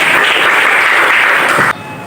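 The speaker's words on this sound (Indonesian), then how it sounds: "Tepuk tangan untuk teman" Classroom applause from a class of seventh-grade students clapping for a classmate, a dense, steady patter of many hands that cuts off abruptly near the end.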